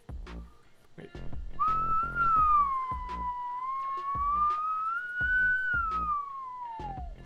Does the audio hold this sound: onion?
no